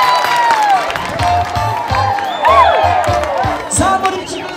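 A church congregation claps and cheers with loud whoops and shouting voices, a steady, dense wall of applause over rhythmic low thumps, close and sustained throughout.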